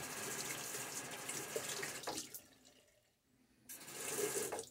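Cold tap water running steadily in late November, a soft hiss that briefly drops nearly silent before the flow swells back up again.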